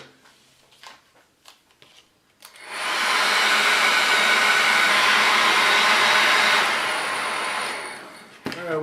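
A hair dryer drying a photo transfer on wood runs steadily and loudly for about five seconds, starting after a few light handling taps and cutting off near the end.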